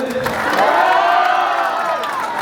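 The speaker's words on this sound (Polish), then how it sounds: "Wielkie brawa." A large crowd cheers and shouts loudly at a welcome ceremony in Tarnów for an Olympic bronze medalist, a dense continuous roar of voices with whoops, close and sustained.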